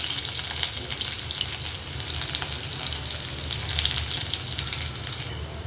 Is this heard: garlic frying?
yes